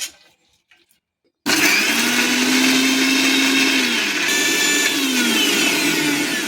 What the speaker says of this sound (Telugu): ఇప్పుడండి ఇవన్నీ మిక్సీ కొట్టుకోవాలి ఉల్లిపాయ ఎల్లుల్లిపాయ పచ్చిమిరపకాయలు